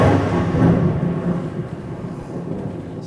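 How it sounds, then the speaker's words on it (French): Deep rolling thunder from a thunderstorm rumbles loud and low at the start, then slowly fades into a softer, distant grumble, with no speech over it. "C'est l'orage."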